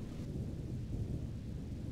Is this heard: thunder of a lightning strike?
yes